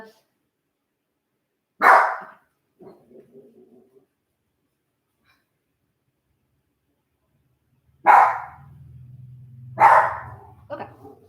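A dog barks close by with single sharp barks spread across long silences. Softer yips follow the first bark, and two barks near the end come over a low hum.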